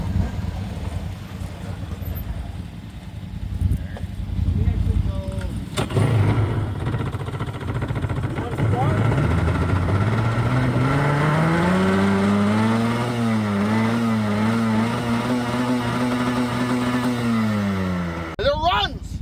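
Jet ski engine cranking and catching during a carburetor repair, building into a steady running drone that rises and falls with throttle over nearly twenty seconds, loud and close, with voices talking in the background.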